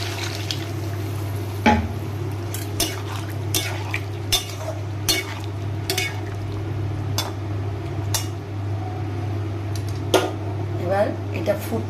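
Stirring and scraping in a pan of egg curry as water goes in, with a steady low hum throughout and brief clinks of a utensil against the pan. Nobody speaks.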